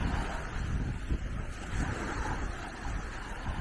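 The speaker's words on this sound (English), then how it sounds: "He needs like one of those fuzzy mufflers on his camera so that I don't hear the fucking wind" Wind buffets a camera microphone on a beach, a steady low rumbling roar with gusty swells that continues without a break and has no voices over it.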